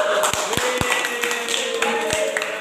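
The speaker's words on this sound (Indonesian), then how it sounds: "tepuk tangan untuk Pak Adi" A classroom audience in a micro-teaching practice session claps for a student, with scattered, uneven hand claps at close range over a steady murmur of room noise.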